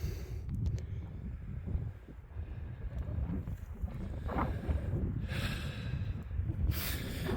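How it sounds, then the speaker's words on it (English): Heavy, rough breathing close up, with snorting exhales and gusty noise rising and falling throughout, from a hiker climbing Caoinkeen mountain in Ireland. "Heavy breathing."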